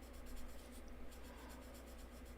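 A Prisma colored pencil blender is rubbed across drawing paper, giving a quiet scratchy scraping in repeated short strokes, close and faint, with no voices.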